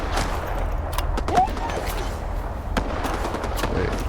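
Gunfire in the video game STALKER 2, a spread of scattered shots and crackling bursts at mid distance over a steady rumbling ambient bed, with one slightly stronger report near the start.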